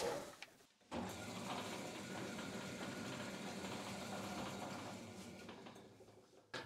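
A DoAll bandsaw runs steadily after a gearbox repair, a continuous close mechanical hum and whir with a brief drop near the start and a slight fade toward the end.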